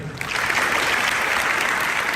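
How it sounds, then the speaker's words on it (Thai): An audience claps for an army commander, a former student now leading the Third Army Region, at a special lecture. Dense, steady applause fills the room throughout, close and loud. "ขอเสียงปรบมือท่านอีกครั้งหนึ่ง"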